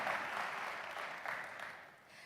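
Brief applause from a conference audience for two panelists at a live-streamed event, a soft steady patter of clapping, fairly distant and fading slightly toward the end.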